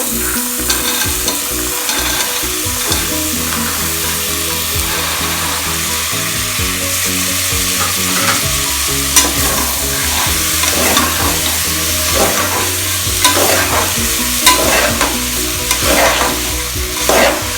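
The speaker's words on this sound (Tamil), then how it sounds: "இப்போ வந்து உருளைக்கிழங்கு பட்டாணி சேர்த்து நல்லா வதக்கிக்கோங்க." Potatoes and peas sauté loudly in a pan for a veg khurma, a dense, continuous sizzle broken by repeated scraping strokes of a spatula against the metal, close and with no talking.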